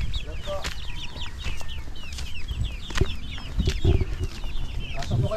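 Several chickens clucking nearby in scattered, overlapping bursts, with faint voices and some rustling in the background.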